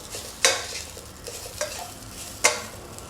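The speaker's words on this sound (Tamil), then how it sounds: "நல்லா எல்லா சைடும் ஸ்ப்ரெட் ஆகிற மாதிரி நல்லா கிண்டி விட்டுறணும்" Soaked flattened rice (poha) being stirred in a pan, with a few sharp spoon scrapes against the metal over a soft, low sizzle, and no voices.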